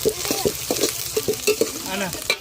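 Green chilies and onions fry in a pan, a steady close sizzle with repeated quick stirring scrapes and small clinks.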